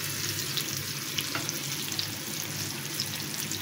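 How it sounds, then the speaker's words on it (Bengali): Pointed gourd (potol) fries in a pan with a steady, dense sizzle and crackle of hot oil, close and continuous with no voices. "এক মিনিটের মতো একটু ভেজে নিচ্ছি।"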